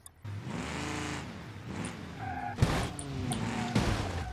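Traffic cars in the BeamNG.drive driving game, engines humming and revving as vehicles pass close by, with a couple of sharp thuds from impacts near the middle and end.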